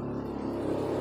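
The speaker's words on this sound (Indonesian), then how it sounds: "ini banyak kendaraan lewat, motor, mobil, jadi suaranya luar biasa" Steady roar of passing motorbikes and cars, engines droning and rumbling close by without letup, no voices.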